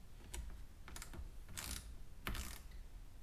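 Socket wrench snugging 8mm bolts on louvers of a 2018 sixth-generation Camaro: several short ratcheting clicks in separate bursts, close and fairly quiet, with no talk.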